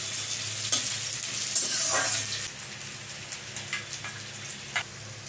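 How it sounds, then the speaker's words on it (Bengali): Chopped onions fried in a pan until browned, a close, steady hissing sizzle with a few spatula scrapes and stirs, fading slightly to quieter crackling and occasional taps. "পেঁয়াজটা লাল করে ভেজে নেব।"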